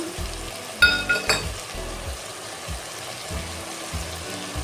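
Brinjal (eggplant) pieces with grated coconut sizzling in a pan while a spoon stirs and scrapes, with a few sharp clinks of metal against the pan early on.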